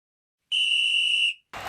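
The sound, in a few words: referee whistle in football video game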